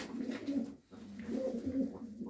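Show pigeons, pied cock and hen birds, cooing close by in soft, low, throaty phrases with a short break between calls.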